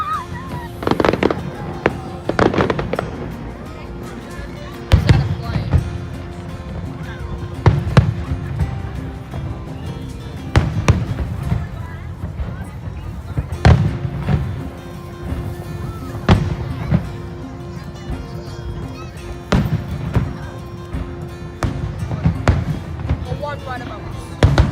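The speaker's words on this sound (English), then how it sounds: "We're across at the fireworks, and there are heaps of people here." A fireworks show over Waikiki with a dense crowd: repeated sharp bangs and booms at an irregular pace, some loud and near, under ongoing crowd chatter and nearby voices.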